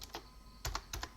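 Quiet keystrokes on a computer keyboard sound as crisp, separate clicks, about five in just over a second, in a quiet room.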